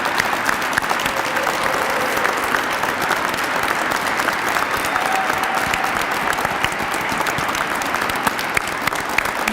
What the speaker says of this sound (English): give them another round of applause for excellent